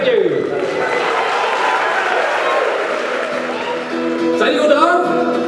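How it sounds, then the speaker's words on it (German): A festival crowd applauds and cheers steadily to welcome a band at an Irish folk festival in the Balver Höhle cave. The clapping holds loud throughout, and a voice speaks over it near the end. "Eine richtige Runde Applaus und ein herzlich willkommen als allererste hier bei eurem Irish Folk Festival in der Balver Höhle."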